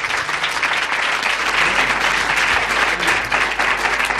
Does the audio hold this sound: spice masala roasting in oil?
no